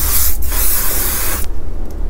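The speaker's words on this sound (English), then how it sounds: "this is Oud um, Istanbul Storm body spray" Oud Istanbul Storm body spray hisses from an aerosol can in one loud, close, continuous burst, followed by a second short puff.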